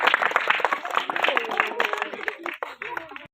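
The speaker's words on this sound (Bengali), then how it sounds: "ভেরি গুড হাত তালি হোক" A group of children and adults at a school event claps in quick, uneven rounds, close by, with voices speaking and calling out over the applause before it stops.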